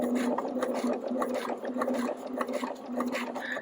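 A home sewing machine runs steadily as it stitches through fabric, its motor giving a continuous close mechanical whir with a rapid rhythmic needle clatter and a brief shift in pitch near the end.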